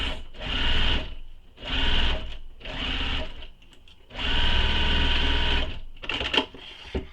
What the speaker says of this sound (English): Just keep sewing it, basting it in place.